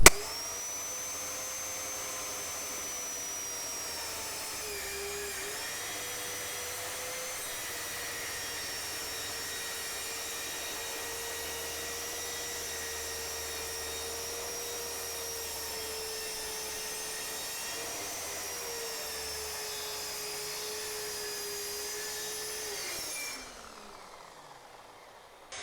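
A Parkside PTSS 1200 C2 plunge saw tilted to 45 degrees makes a bevel cut, a steady high motor whine held for over twenty seconds with slight pitch dips under load, then spinning down at the end, with no talking.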